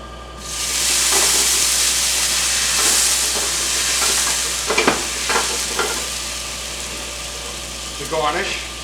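A pan sizzles loudly as it is deglazed over garlic, with a strong steamy hiss that rises quickly and slowly fades. Stirring clatters and a voice are heard over it.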